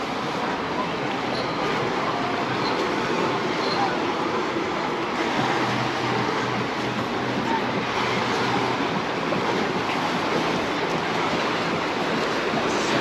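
Waves wash onto busy San Matias beach in Palmanova, Mallorca, a constant broad roar of surf heard from some distance, mixed with faint crowd murmur and wind.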